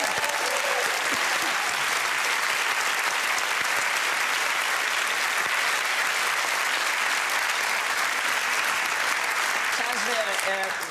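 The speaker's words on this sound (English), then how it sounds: "That's the longest round of applause we've ever had for anything." Sustained studio audience applause on a comedy quiz show, loud, dense clapping that holds steady for the whole stretch without a break, with faint cheers mixed in.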